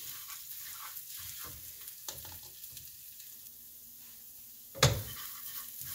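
Curry laksa paste fries in a little oil in a pan, a quiet, steady sizzle with faint stirring scrapes and one sharp clatter near the end.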